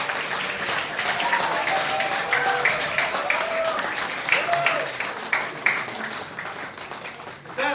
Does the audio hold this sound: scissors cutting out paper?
no